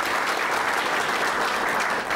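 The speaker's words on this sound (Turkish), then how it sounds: "Alkışlar ve konfetiler hem Evrim'e hem de büyük usta Kayhan Yıldızoğlu'na gelsin Sıtkı" A studio audience applauds at a Turkish TV show, dense, loud, sustained clapping throughout.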